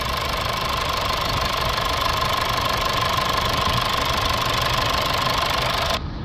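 A Mazda 3 engine runs at raised, held revs during a diesel particulate filter regeneration with an ash-accumulation fault, giving a steady, even drone with a faint whine until it cuts off near the end.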